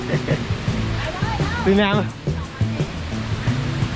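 Water pours down the Kroke E-Dok waterfall in Saraburi, Thailand, a loud continuous rushing roar that fills the scene while hikers talk close by.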